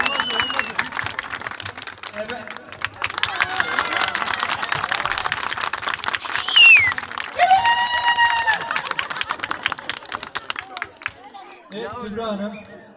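Guests at a wedding for young people with disabilities in İskenderun clap together in a dense, steady patter of applause, with voices and cheering mixed in and a brief swell of whoops near the end.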